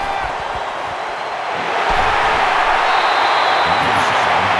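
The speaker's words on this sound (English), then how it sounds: "Dude, that crowd's getting loud." Stadium crowd noise in the NCAA 14 football video game, a steady broad roar that swells louder partway through and holds at a dense, continuous level.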